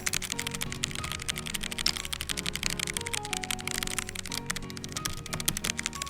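Quiet, rapid typing on a Logitech G913 TKL keyboard with low-profile linear switches, soft muted key presses in a steady continuous stream, no voices.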